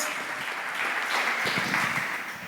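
A church congregation applauds during a Spanish-language sermon, a moderate, fairly distant wash of clapping that swells slightly in the middle.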